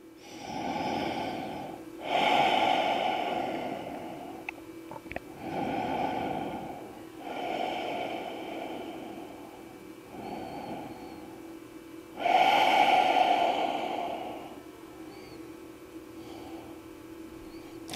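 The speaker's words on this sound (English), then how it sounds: "Big inhale, slow exhale." A person takes slow, deep yoga breaths, big inhales and long exhales, in a series of about seven breathy swells that rise and fall steadily, close to the microphone, with no talking.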